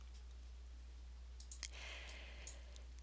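A few faint computer mouse clicks, scattered singly and in a quick pair, while someone works through a budget maintenance screen, quiet over a steady low hum with no talking.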